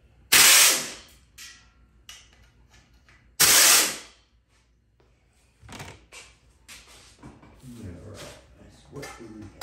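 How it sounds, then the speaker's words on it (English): Bolts come off a 2004 Troy-Bilt pressure washer with two loud bursts from a power tool, followed by clinks and rattles of metal parts while someone talks. "Zap all the bolts off of here."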